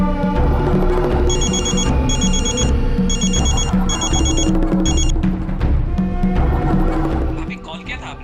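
A telephone in a Hindi TV crime serial rings in a steady, repeating electronic ring tone for several seconds. It is loud and close, heard under background music, and it fades out at the end.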